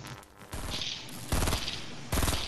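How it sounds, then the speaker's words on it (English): Rapid bursts of Fortnite gunfire sound close and loud, with a dense rattle of shots and two sharper volleys toward the end, no talk over them. "I was just randomly shooting."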